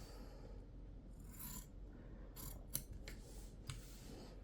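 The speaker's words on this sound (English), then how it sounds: "I like to cut it like that, and then I'm just going to trim around the bag." Scissors snip around the edge of a sewn zip-front bag, a few quiet crisp cuts spaced out over a soft steady background.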